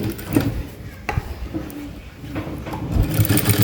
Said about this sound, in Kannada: ಇಲ್ಲಿ ಸ್ಮೂತಾಗಿ ಸ್ಟಿಚ್ ಮಾಡಬೇಕು